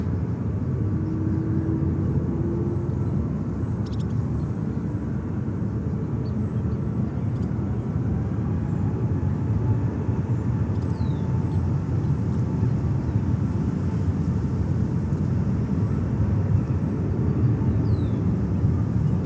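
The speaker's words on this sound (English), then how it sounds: "we are waiting for Qatar, 777-300, coming over and heading to Doha" Qatar Boeing 777-300 airliner passing overhead at JFK airport, a loud, steady, broad jet roar that holds evenly for the whole stretch, with faint chirps in the background.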